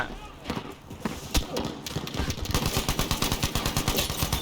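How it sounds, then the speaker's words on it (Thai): A teammate in Battlefield V fires without stopping, a dense train of sharp rapid shots that grows steadier and louder toward the end, close to the listener. "เพื่อนเรายิงไม่หยุดเลยตอนนี้"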